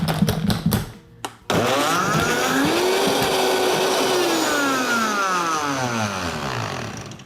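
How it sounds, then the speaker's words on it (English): A Vitamix E320 blender runs on ice it fails to blend, the blade spinning freely with a loud steady motor whine and pitch sweeps, after a few short bursts and a brief pause. "this didn't blend this ice at all. I used the tamper here and it won't blend it."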